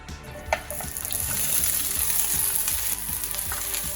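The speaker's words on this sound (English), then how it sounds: "The tomatillos are cooking." Diced tomatillos sizzle steadily in hot olive oil in a large pan, a loud, close, continuous frying hiss with a faint clink near the start.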